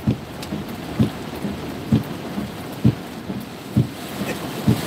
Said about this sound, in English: The wind is really blowing fierce right now.